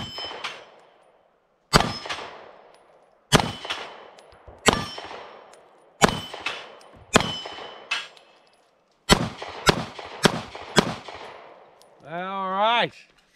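Eight sharp pistol shots from a SCCY CPX-2 Gen 3 with a heavy trigger pull, fired slowly and evenly spaced at an outdoor range, each followed by a ringing metallic clang of steel plates, ending with a brief warbling tone.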